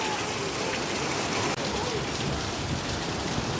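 A steady downpour of heavy rain, a thick continuous hiss close by, with no talking.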